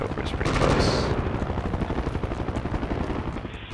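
A Cobra attack helicopter in a video game, its rotor chop a rapid steady pulse under bursts of gunfire, with voices heard over the noise.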